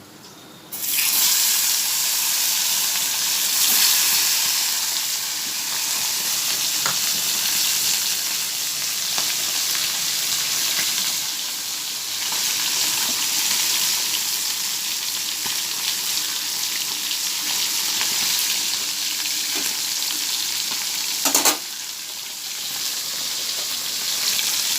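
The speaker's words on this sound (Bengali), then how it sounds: "এই দেখুন মাছ ভাজা হয়ে গেছে" Bata fish sizzles in hot oil with a loud, continuous crackling hiss, with scattered pops and a brief clatter near the end.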